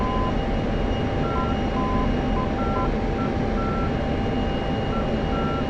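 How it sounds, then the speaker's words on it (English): A radio navigation beacon in a DCS flight simulator cockpit sends short, evenly spaced tones in a Morse-like pattern. The beeps sound faint above a loud, steady aircraft engine roar. "I just put it in for COM 2 and it started beeping."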